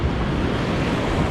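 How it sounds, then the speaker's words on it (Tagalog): Ocean waves rush in a loud, constant roar of surf, mixed with wind buffeting the microphone. "May alon."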